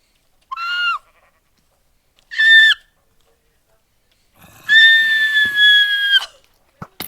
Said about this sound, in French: ça c'est pas une vache, c'est une grosse chèvre qui s'appelle squelette